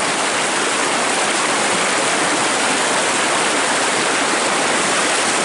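A river in a rural Sundanese village with no bridge, a steady dense rushing of water, loud and close, continuous with no break and no voices.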